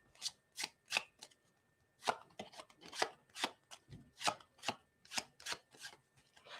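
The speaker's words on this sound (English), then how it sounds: "we are going to shuffle it in." Playing cards shuffled during a live card-magic demonstration: repeated crisp riffling bursts in quick succession, close and clear, with no talk over them.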